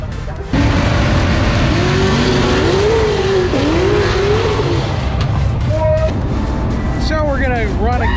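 A Cadillac CTS-V wagon drag racing at LS Fest at a drag strip, its engine revving hard and roaring loudly as it accelerates with rising and falling pitch, with crowd noise and voices underneath.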